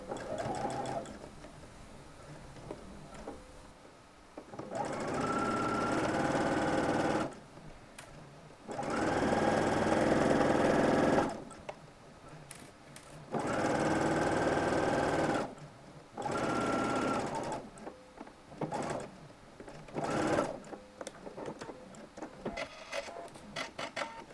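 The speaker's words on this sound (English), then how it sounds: "Stitch the 3 layers together using 5/8 seam allowance." A sewing machine stitches three layers of shirt fabric together in several bursts, loud steady whirring runs of a few seconds each separated by quiet pauses and brief stop-start taps.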